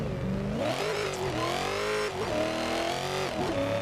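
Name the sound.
supercharged Nissan S14 drifting in video game racing simulator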